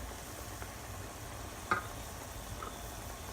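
Chicken and spices, including turmeric, red chili powder and salt, frying for butter chicken, a steady soft sizzle with a brief louder crackle partway through, close and alone with no talk.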